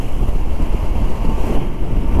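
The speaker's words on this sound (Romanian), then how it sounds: "mă termină vântul ăsta" Loud, rumbling wind buffeting the microphone continuously while riding a motorcycle at speed in Serbia, low and gusty rushing air.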